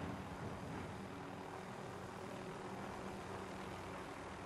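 A helicopter flying in Call of Duty Warzone, heading toward a military base, makes a steady, dense rotor-and-engine drone that holds evenly throughout with no other sounds standing out.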